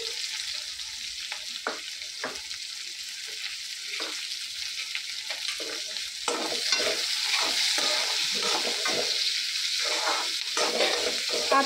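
Onion fries in a pan and is stirred repeatedly, giving irregular close scrapes and taps over a steady sizzle that grows louder and busier partway through.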